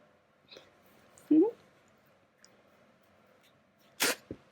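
A dog gives a sharp, short sneeze near the end amid quiet surroundings, preceded by a small snort and faint squeaky noises.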